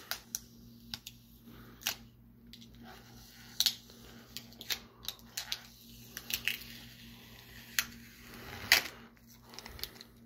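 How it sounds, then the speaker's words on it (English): Someone unwrapping an XLE-4040 reverse osmosis membrane, with crinkly plastic rustles and sharp tearing clicks scattered irregularly over a quiet, faintly humming room, no talking. "Okay, so I'm just gonna unwrap it."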